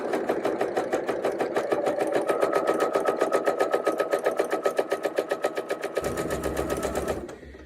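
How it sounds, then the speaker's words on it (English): A sewing machine stitches a half-circle quilt block, joining an arched fabric piece to a crescent piece, running steadily and close at a fast regular rhythm for about seven seconds before its pitch shifts and it winds down. "And I'm gonna keep sewing."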